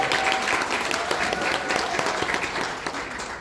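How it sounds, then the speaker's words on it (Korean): A dense, steady wash of audience applause fills a lawmaker's legislative report meeting in Yuseong, Daejeon, holding at an even level throughout and easing slightly at the end. "박수 한번 해주세요."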